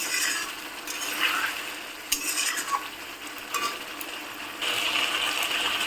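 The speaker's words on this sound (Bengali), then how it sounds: "এখন মশলাটাকে ভালো করে কষে নেবে যতক্ষণ না মশলার থেকে সম্পূর্ণ জল শুকিয়ে যায়" Spice paste sautéed in a pan for fish curry: a steady close sizzle broken by several scraping stirs of a spoon against the pan, the frying swelling louder near the end.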